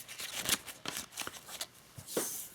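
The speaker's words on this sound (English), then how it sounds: "You shuffle it at the beginning of the game." A deck of dungeon cards for a print-and-play board game is shuffled in quick, soft papery riffle bursts, quiet and close, with no talking.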